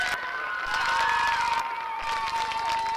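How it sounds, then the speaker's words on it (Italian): An outdoor neighbourhood crowd in Naples' Rione Sanità applauds, clapping and cheering mixed with children's shouts, while a sustained tone runs through the busy, steady crowd noise. "Facciamo un applauso"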